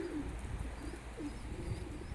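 Soft, low cooing of Mardin Dumanlı Perçem pigeons repeats in short phrases over a steady background hum, fairly close and unhurried.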